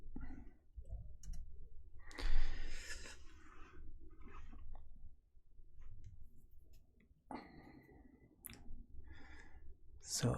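Keys clicking on a computer keyboard during a live question-and-answer stream, a few quick bursts of close taps with gaps of quiet room noise and breathing between them.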